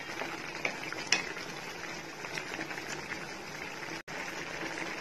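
Cumin and coriander powder being stirred into a hot pan while cooking, a soft continuous sizzle with faint scraping of the spoon and a couple of light clinks, steady and close.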